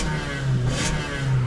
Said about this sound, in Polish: Fajnie, że tutaj, kurczę, jest ten silnik benzynowy.